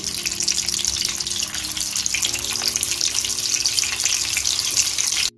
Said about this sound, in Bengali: আমি পরে বাকিগুলো ভেজে নিচ্ছি, একইভাবে দিয়ে দিচ্ছি।